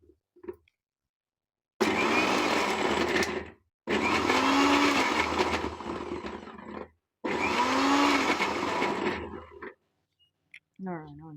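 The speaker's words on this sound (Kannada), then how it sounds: "ನೋಡಿ, ಮಿಕ್ಸಿ ಮಾಡ್ಕೊಬರೋಣ." A kitchen mixer grinder blends wood apple in three loud, whirring runs of a few seconds each, separated by short silences, close up, with a brief faint voice at the very end.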